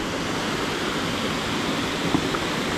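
Erawan waterfall in Thailand pours as a dense, steady roar of rushing water, loud and unbroken throughout with no voices.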